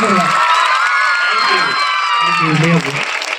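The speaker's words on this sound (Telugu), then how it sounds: "మీకు సంతోషంగా చప్పట్లు కొట్టండి" Crowd of schoolchildren and parents cheering and shouting at a high school parent-teacher meeting in India, loud and sustained with whoops and some clapping mixed in.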